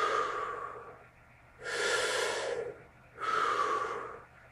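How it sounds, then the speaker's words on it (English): Slow, deep belly breaths by a freediver wearing a weight belt around the hips, three airy breath sounds in a steady rhythm, close and soft with no speech. "I'm going to start belly breathing now."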